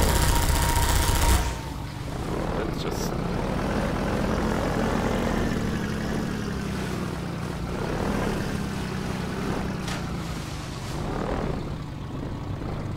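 A helicopter in Half-Life 2 thrums with a sustained whirring engine roar that swells and fades slightly, mid-distance and unbroken after a louder opening burst.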